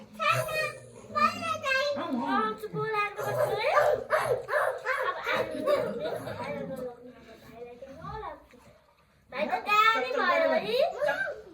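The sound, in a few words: dog barking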